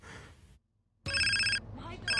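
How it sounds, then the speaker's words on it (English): A telephone rings in GTA San Andreas Definitive Edition, two loud electronic ring bursts separated by a short silence and then a further partial ring, with game sound underneath. "We have a phone call."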